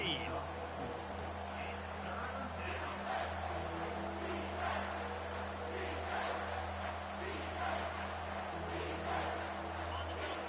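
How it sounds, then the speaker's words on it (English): A college football stadium crowd roaring on a third down at an Iowa game, a dense sustained wall of cheering and yelling under an announcer's commentary. "Third down, and this crowd is tearing the lid off this place."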